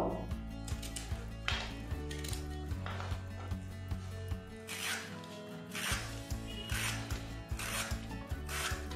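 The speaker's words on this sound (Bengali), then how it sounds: "পটলটা আমি এইভাবে খোসা ছাড়িয়ে নেব" Skin being peeled off pointed gourd (potol) with a peeler, a close, repeated scraping and rasping in a steady rhythm of short strokes, with a low constant background hum underneath.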